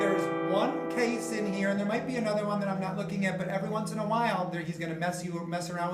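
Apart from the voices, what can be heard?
None of the usual background noises is heard.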